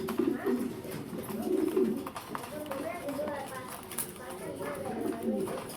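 Pigeons coo in low, repeated, rounded calls that overlap one another at close range, with a steady background of rustling and faint ambient noise.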